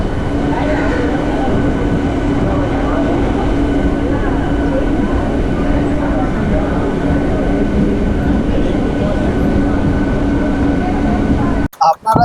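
A passenger train in India runs toward Perambur station, with a continuous close rumble of wheels and carriage noise that holds steady throughout and cuts off abruptly at the very end.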